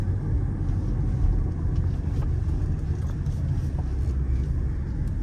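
A Porsche Cayenne diesel 958.1 cruises along the road, its engine and road noise forming a steady, close low rumble that holds evenly throughout.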